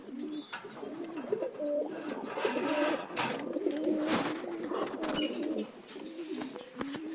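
A breeding pair of pigeons sitting on eggs in a loft coos close by, with repeated low rolling coos and a few faint chirps from other birds over a quiet background.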